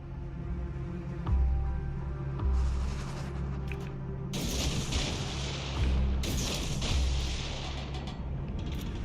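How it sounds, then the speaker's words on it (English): Battleship main guns firing salvos in World of Warships, repeated deep booming blasts over a constant low engine rumble and ambient game noise. "I just sent a full salvo through that smoke because I knew he was there"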